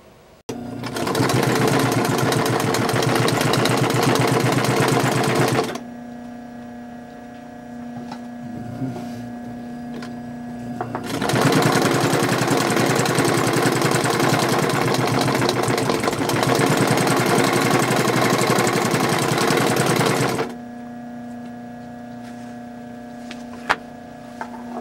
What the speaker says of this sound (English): I'm ready to put it on the sewing machine